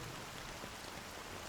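Steady, dense rainfall hisses evenly in the Honkai Star Rail video game, a soft continuous patter heard alone with no voices.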